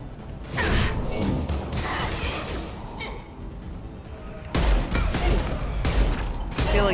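Gunfire in a Mass Effect 2 firefight aboard a space station, dense continuous bursts of shots with crashes and impacts, loud and sustained, rising again into heavier volleys toward the end.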